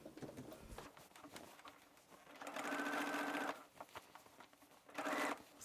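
Sewing machine understitching a seam allowance toward a front garment piece, two short whirring bursts near the mic after quiet fabric handling, moderately loud.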